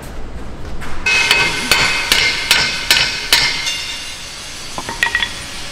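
Sharp metallic hammer blows ring out on the rear wheel of an M3 Half Track, about eight spaced strikes followed by a few lighter clinks, close and loud with no talk.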